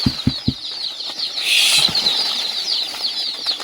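Wings flap in a brief flurry as chickens scatter during Lasota vaccination, after a few soft thumps, with high chirping and clucking continuing in the background.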